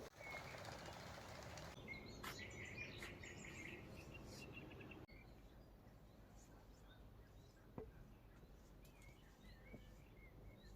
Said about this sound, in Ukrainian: Поруч ставок, жаби квакують, комахи цвіркотять.